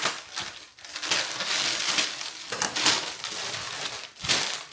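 Scissors snip and tear through the plastic wrapping of a mail package during an unboxing, a close, loud run of crinkling, crunching cuts and rustles in irregular bursts.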